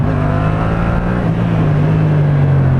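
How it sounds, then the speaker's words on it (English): A Yamaha MT-07 motorcycle accelerates hard in second gear during an uphill wheelie attempt. The engine gives a loud, close, steady roar throughout. "So I'll do a few first gear power wheelies uphill, just to get my balance point a lot easier. Try a second gear."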